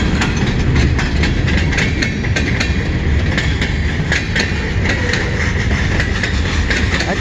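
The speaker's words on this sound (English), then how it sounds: "That's a big train, huh?" A long CN mixed freight train rolls past eastbound, a loud, continuous rumble with rhythmic clicking of wheels over rail joints and steady engine drone close by, no voices.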